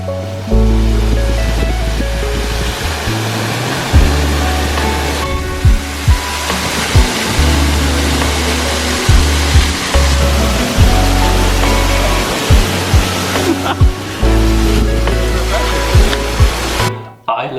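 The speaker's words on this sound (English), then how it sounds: "on the edge of a kind of rock formation, having a waterfall come down" Water from a waterfall pours down a coastal rock formation at low tide in a loud, continuous, close roar, broken by bursts of heavy splashing, with wind buffeting throughout.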